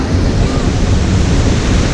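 Big waterfall at Vik, Iceland, a dense, steady roar of rushing water heard up close and loud, with heavy wind buffeting the microphone throughout.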